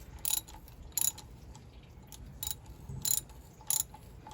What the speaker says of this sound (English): go back and forth a little bit here. See if we can break some of that up.